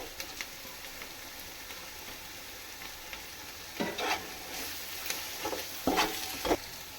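Spices fry and get stirred in a pan for chicken dum biryani, a soft steady sizzle with several louder scraping stirs near the end, close and without talk.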